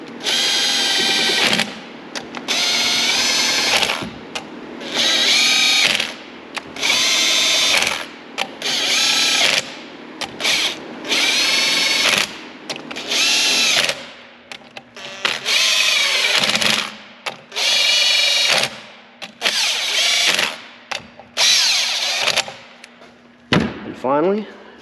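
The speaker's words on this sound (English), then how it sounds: "watch yourself when you're hammering on these with an impact. I'll just run them down." An impact wrench fires in repeated bursts of a second or so each, running bolts down during a locker install on a 2021+ Kawasaki Mule Pro, loud and close, with short pauses between runs.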